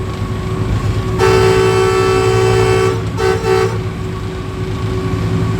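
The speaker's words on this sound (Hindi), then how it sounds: "विसल का साइन बोर्ड आया था तो ड्राइवर साहब ने विसल बजाया यहाँ पर।" Green Line passenger train locomotive whistle sounding on the Rawalpindi–Jhelum stretch, a steady loud tonal blast lasting about two seconds, then two shorter bursts, over continuous rumbling track and carriage noise.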